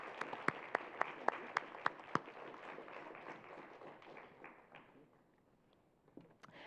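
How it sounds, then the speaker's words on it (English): Sharp, regular claps from a single nearby person ring out over scattered applause from a conference audience, then the clapping thins and fades to a few stray claps near the end. "Let's give them a round of applause."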